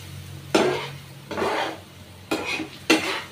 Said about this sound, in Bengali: দিয়ে আমি এটাকে ভালোভাবে নাড়াবো